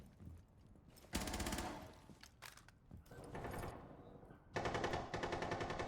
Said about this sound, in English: Ooh, getting the headshot onto Recoil